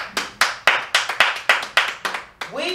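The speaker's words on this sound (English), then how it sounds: "let me clap it up." A person claps hands about ten times in a quick, slightly uneven rhythm, close and crisp, with a brief voice at the end.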